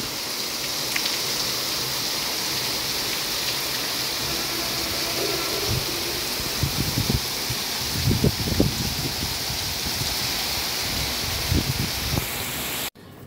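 Cool rain pouring down steadily in a broadband hiss, with heavier drops pattering on nearby surfaces in irregular bursts partway through; close, continuous, and no talking.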